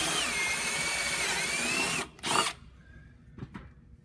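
A step bit drills a hole in the metal casing of a Brew Boss V2 brewing controller, whining steadily for two seconds before a short second burst, then stopping, with only faint handling clicks afterward.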